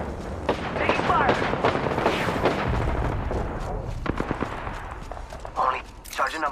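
Gunfire and booming weapon blasts from the video game Apex Legends, dense bursts of shots and impacts rolling through a busy firefight, with voices talking over the action.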